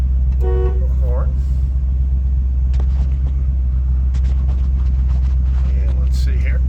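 Horn of a 1966 Ford Mustang giving one short toot near the start, over a loud low engine idle rumble with a voice speaking briefly.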